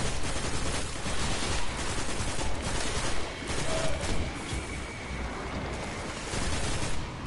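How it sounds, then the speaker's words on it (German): The Haakon's Hatchet automatic rifle fires in the video game Destiny, producing rapid bursts of gunfire layered over a busy, noisy battle mix. "Das ist halt ein normales Automatikgewehr."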